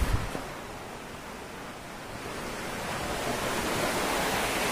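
Heavy rain falls outdoors near a guava tree, a broad, roaring wash of noise that swells slightly louder toward the end, opening with a brief knock and carrying no speech.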